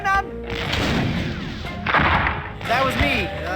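Cannon fire in the video game The Curse of Monkey Island, with several booming shots and crashing impacts in quick succession, mixed with game voices and music.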